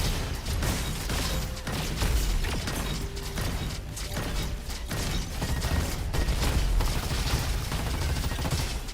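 Rapid, clattering mechanical gunfire from a weapon in the shooter game Roboquest, loud and nearly unbroken throughout, with no talking.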